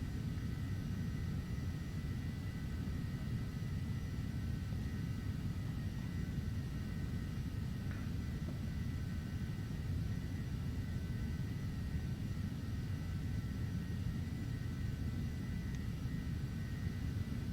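A Carenado Phenom 300 business jet in the Prepar3D flight simulator takes off, its engines giving a steady, loud broadband roar and low rumble that holds evenly throughout with no talking.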